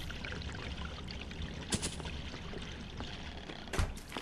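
Water keeps running in Hello Neighbor as an even, rushing flow, with a couple of brief knocks or thuds standing out over it.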